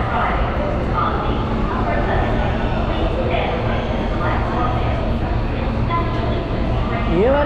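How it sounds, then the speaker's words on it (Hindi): New York subway train rolling into a station, a constant loud rumbling and rattling roar filling the platform, with people chatting over the noise. "अब ये कुट कुट करके आ रही है इधर से यूं जाएगी यूं आएगी"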